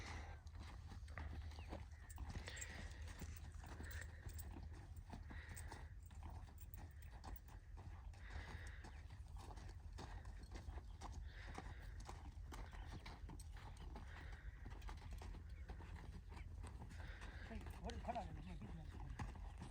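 Horse hooves clip-clop at a steady walking rhythm on a farm while the animal works the field, faint and low against a rumbling background, with a man calling out to the horse and a brief neigh.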